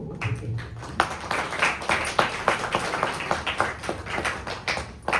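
A congregation at a Christian prayer gathering clapping in welcome for guests, a brisk run of fairly close handclaps, somewhat uneven and rhythmic, keeping up for several seconds.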